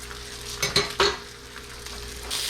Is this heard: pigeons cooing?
no